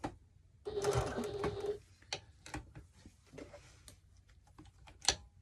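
Sewing machine zigzag stitching on a 1941 gasmask bag: a loud burst of rapid mechanical stitching for about a second, then quieter intermittent clicks and taps of handling with a sharp knock near the end.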